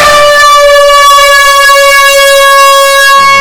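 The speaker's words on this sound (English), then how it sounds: "I will go scare Lucy with an air horn." An air horn in a cartoon gives one long, loud, steady blast that holds for about three seconds before cutting off abruptly.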